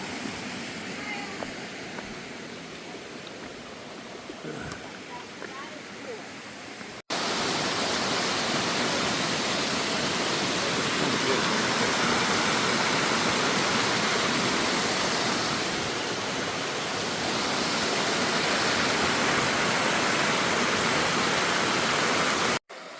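Waterfall water on the Appalachian Trail in North Carolina rushes loudly in a dense, continuous roar, quieter at first and then surging up close for most of the stretch before cutting off abruptly.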